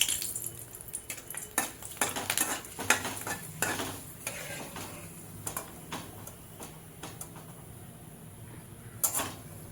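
Green chilies fry in a pan, with a soft sizzle under frequent metal scraping and stirring clinks from a spoon against the pan, busiest at the start and thinning out later.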